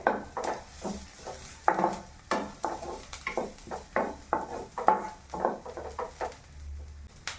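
Onions and garlic sautéing in a pan for a Kerala okra and bird's-eye chilli curry, with a spoon scraping and clinking against the pan in an irregular rhythm over a soft, low sizzle.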